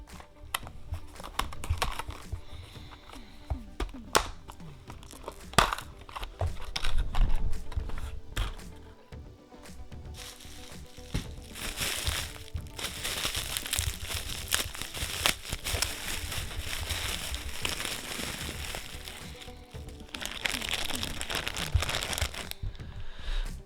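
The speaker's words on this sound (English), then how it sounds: "Let's crack this blister. Let's rip this bubble wrap" Blister packs for Copplestone Cavemen miniatures being cracked open and bubble wrap torn, a run of close crinkling, snapping plastic and tearing, irregular bursts with short pauses, no talk.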